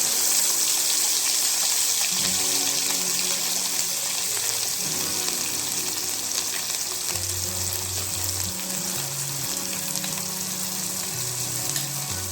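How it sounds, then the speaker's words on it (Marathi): Ground masala paste hits hot oil already crackling with mustard seeds and cumin for a clam curry, giving a loud, continuous sizzle and fry that stays steady the whole time with no talking. "आता आपण त्यामध्ये मिक्सरमध्ये फिरवलेलं वाटण टाकणार"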